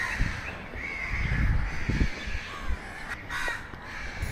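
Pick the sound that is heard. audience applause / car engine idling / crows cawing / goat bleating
crows cawing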